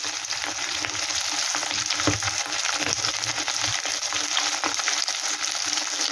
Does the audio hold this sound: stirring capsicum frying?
yes